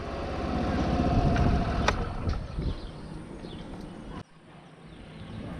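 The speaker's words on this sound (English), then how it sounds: "When we push this, it is an electric start." A Suzuki Burgman Street BS6 2020 scooter engine cranks on its electric starter and settles into a steady idle, a continuous close low rumble with a sharp transient near the two-second mark and a drop in level toward the end.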